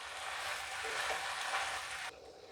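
Elephant apple pieces stirred into melted jaggery in a pan over low flame, giving a steady, close sizzling hiss with soft stirring movement that drops away abruptly near the end.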